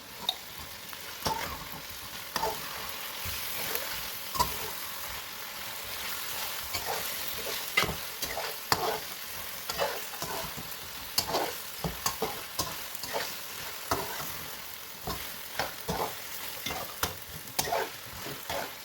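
Steady sizzling of chicken frying in a pan with ginger-garlic paste, with repeated scraping and stirring knocks from a utensil throughout, no voices.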